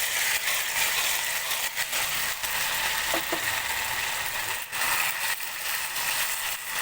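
Marinated chicken frying in hot oil in a wok, a steady loud hiss and crackle filling the whole stretch, with a few brief scraping clicks and no talk.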